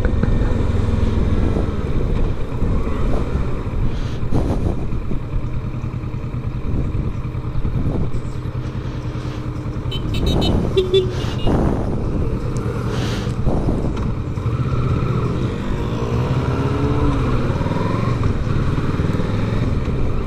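A Honda XRE 300 motorcycle ridden through city traffic, its engine droning steadily and close with wind buffeting the microphone and a few passing vehicles swelling briefly.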